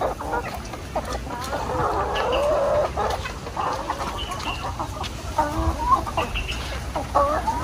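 Chickens cluck and chatter close by in a backyard coop, overlapping calls rising and falling over a low hum of background noise, with no speech.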